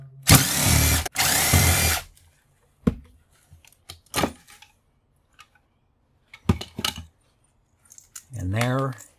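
A power drill whirs loudly in two bursts near the start while a motor is taken out of scrap equipment, followed by scattered clicks, taps and small metal handling noises, with a short voiced sound at the end.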